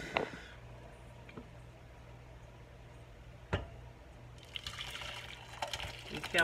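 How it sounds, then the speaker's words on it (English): Herbal liquid is poured into a crock pot at home, giving soft watery splashing and trickling that builds toward the end, with a low hum and occasional clunks underneath. "So we're going to transfer it in our crock pot."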